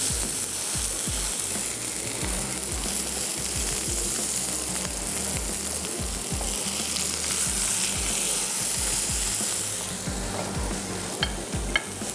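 A chapli kebab fries in a pan, its second side cooking, with a constant loud sizzle and bubbling of oil and repeated low thumps and scrapes throughout.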